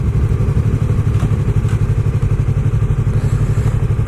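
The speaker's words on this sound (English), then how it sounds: "I'm getting a lot better at riding this motorcycle." A motorcycle engine runs steadily while riding, giving a constant low, pulsing drone with a fine rhythmic beat and a light wash of wind noise.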